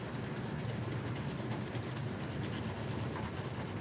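A knife blade being sharpened on an 8,000 grit Rob whetstone, with a steady, even rubbing scrape of back-and-forth strokes, faint and close with no talk.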